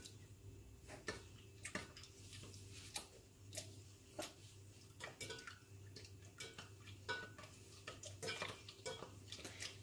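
Milk being stirred in a pot at home, a spoon repeatedly clinking and scraping against the metal in an irregular rhythm over a low steady hum, close and fairly quiet.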